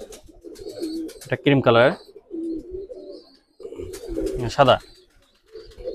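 Fakirgul pigeons in a pigeon loft of Pakistani breeds, giving several throaty coos in two bursts while someone talks nearby.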